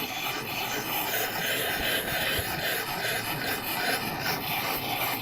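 Steel knife blade being sharpened on a stone in a steady circular motion, giving a continuous close, soft rasping scrape with no talk.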